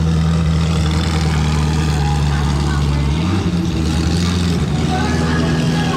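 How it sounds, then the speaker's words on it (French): A Bugatti Mistral with a Koenigsegg engine idles with a deep, steady rumble, its pitch shifting slightly partway through, while voices talk over it. "Elle a un moteur de Koenigsegg, écoutez."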